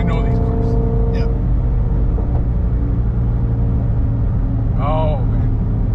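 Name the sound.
Shelby GT350 Mustang engine revving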